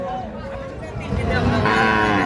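A dairy cow lows loudly and close by at a cattle market, a single drawn-out moo rising in strength over about two seconds.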